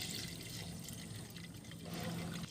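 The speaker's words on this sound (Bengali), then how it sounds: "ডাল ধোয়া হয়ে গেছে, এবারে আমি জল দিয়ে দিচ্ছি।" Water is poured onto washed lentils in a kitchen, a faint, continuous splashing rush lasting a couple of seconds.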